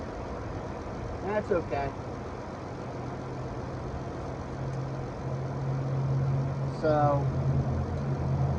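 The engine of a 2014 Caravan with a bad transmission idles with a low, steady hum that grows slightly louder partway through, while someone speaks briefly over it.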